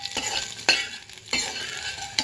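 Red chillies and curry leaves sizzle in hot oil in a pan while being stirred, with three scraping strokes of a spoon over a steady close fry.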